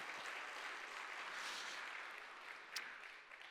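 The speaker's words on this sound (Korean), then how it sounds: "박수." Steady applause from a church congregation during a Sunday worship service, sustained and fairly faint, filling the room from start to finish with no speech over it.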